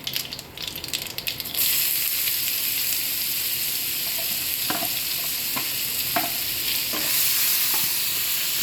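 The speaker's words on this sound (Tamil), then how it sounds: "நான் இப்போ அனியன்ஸ் ஆட் பண்ணுறேன்" Onions sauté in a pan for a broccoli and peas curry, a loud, steady sizzle with sharp scraping strokes of a spatula stirring at irregular intervals.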